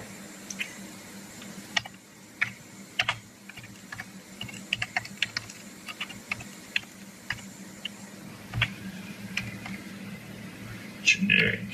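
Someone types on a computer keyboard in uneven bursts of close, light key clicks, with a few louder clacks near the end and low talk in the background.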